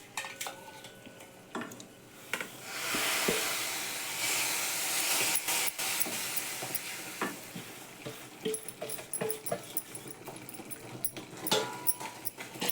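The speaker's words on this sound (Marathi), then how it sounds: "आता मी भाजलेला रवा त्यात घालते." Roasted semolina tipped into hot sugar syrup in a pan for rava coconut vadi brings a swelling hiss, then lighter stirring scrapes and occasional clinks of a utensil on the pan.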